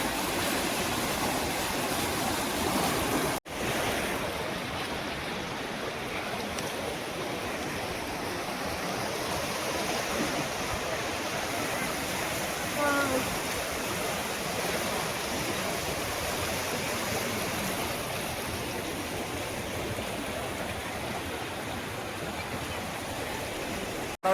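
Fast river water rushing steadily along a swimming spot on the way from Senkottai to Varkala, a broad continuous roar close by and filling the whole stretch, with a brief dropout near the start.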